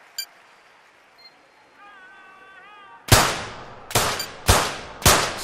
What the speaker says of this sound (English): 6th round, needs to shoot well here.